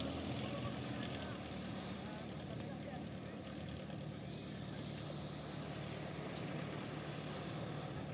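A boat's 4D32 engine drones continuously at a steady pitch, with constant broadband wash behind it.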